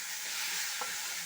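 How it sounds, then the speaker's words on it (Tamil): Ridge gourd sautéing in a pan, a steady close sizzle and frying hiss with one brief stir or scrape partway through, no voices. "இப்போது எடுத்துட்டு வதக்கி விடுங்க நல்லா"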